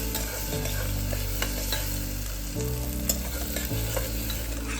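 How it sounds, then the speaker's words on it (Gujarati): Onions sautéing in a pan for chana dal, a loud, close, continuous sizzle with stirring scrapes and a steady low hum underneath. "ડુંગળીને થોડીક સોતરવાની"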